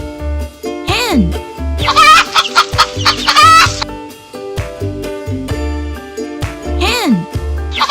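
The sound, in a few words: hen clucking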